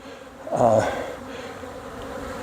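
Honey bees in a horizontal hive give a short close buzzing swell, one bee passing near, over a faint steady hum from the colony.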